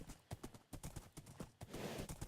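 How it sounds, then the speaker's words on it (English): A horse trots along in Minecraft, its hooves giving a quick, even clip-clop of sharp, close knocks throughout, with a brief shuffle of movement near the end. "Oh yeah, and I got my horse."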